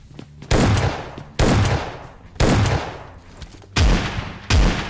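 Shotgun blasts from the mobile shooter PUBG Lite ring out in five loud, sharp reports spaced about a second apart, each followed by a decaying tail, with no speech over them.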